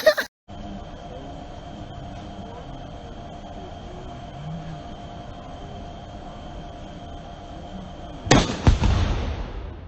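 Tannerite exploding after being shot in the dark at about 200 meters: a long steady background hum, then near the end a sharp distant blast that booms and rumbles away.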